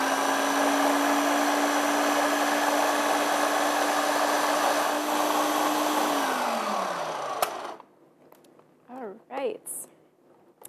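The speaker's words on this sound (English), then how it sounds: "Just gonna blend this up again." A blender runs on bittersweet Mexican brownie batter, a loud steady motor whir for about seven seconds that then winds down in pitch and stops, followed by a few spoken words.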